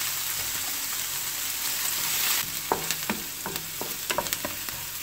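Finely chopped onion sizzles and fries in a pan, a steady hiss followed by several sharp scraping, stirring clicks near the end.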